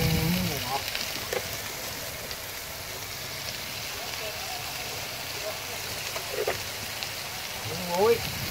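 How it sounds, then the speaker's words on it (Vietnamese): Bottle gourd stir-fried with dried shrimp on a boat sizzles and crackles steadily in the pan, with a few brief scraping sounds and a short stir near the end. "gan bỏ vô xào chung với bầu rồi bỏ miếng tôm khô vô"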